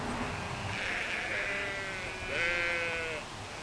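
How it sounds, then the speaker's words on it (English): Sheep bleat outdoors, two drawn-out calls of moderate loudness over a soft steady background. "the sheep."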